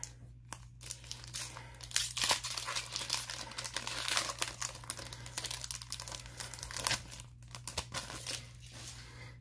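Crinkling plastic wrapper of an Eternity Code trading card pack being torn and pulled open, a steady close-up run of crackles and rips with a low electrical hum underneath and no talking.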